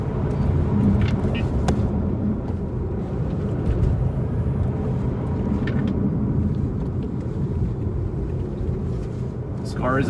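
Low road rumble and tire noise from a Tesla Model 3 Performance in track mode on a winding canyon road at dusk, a steady loud drone with a voice speaking over it.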